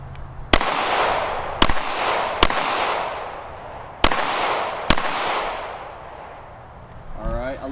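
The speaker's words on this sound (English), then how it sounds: "I'm going to take 5 shots center mass here, or maybe I'll put 3 in the body and 2 in the head" Five loud gunshots from a Ruger RXM pistol at a shooting range, sharp cracks spaced about a second apart with ringing decays, followed by a brief voice at the end.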